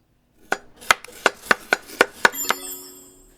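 Seven quick, evenly spaced knife chops on a shallot in the game Chef Life: A Restaurant Simulator, crisp and close, followed by a bright ringing chime that fades out.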